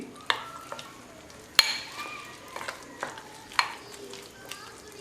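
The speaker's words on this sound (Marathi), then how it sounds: "हे सगळं आता आपण मिक्स करून घ्यायचं आहे छानपैकी" A spoon mixes a pinch of asafoetida, a spoon of turmeric and finely chopped onion for bombil fritters, making irregular scrapes and clinks against the bowl.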